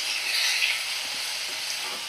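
Onions and potatoes fry in a pan with a steady, moderately loud hiss and soft crackle, heard alone without talk.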